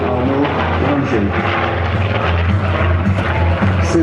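A Douglas A-1 Skyraider, a piston-engined, propeller-driven ground-attack plane, flies at the 2009 Le Bourget airshow with a loud, steady, rumbling engine drone that fills the whole stretch, close by, with possible faint voices beneath.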